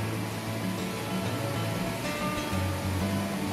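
Continuous roar of an air terjun at Cibodas, broadband water noise holding an even level throughout, heard fairly close and alone.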